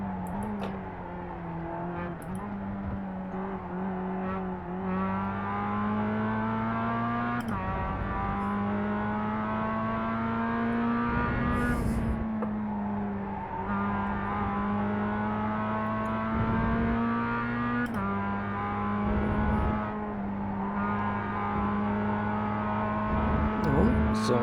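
A Mazda MX-5 Cup race car in the iRacing simulator at Laguna Seca drones through repeated rising gear pulls, its engine note climbing and dropping with each shift, steady and moderately loud.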